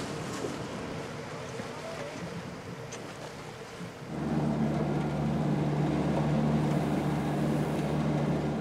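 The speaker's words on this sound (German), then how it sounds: "Das flache Boot hat einen besonders starken Motor, damit es sich selbst befreien kann" A small flat-bottomed work boat with an unusually powerful motor runs in the Wadden Sea off Amrum, its steady low engine drone jumping louder partway through as it throttles up, with wind and water noise throughout and no talk.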